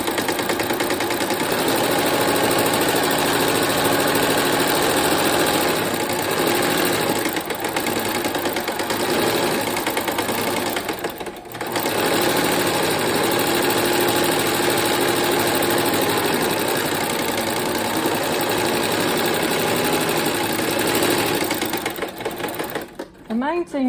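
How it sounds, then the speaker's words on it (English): Sewing machine quilting layers of fabric together, running as a steady, loud mechanical whir with an engine-like rumble for most of the stretch, briefly pausing near the middle and stopping at the end. "Now I'm going to go back and do some quilting on it"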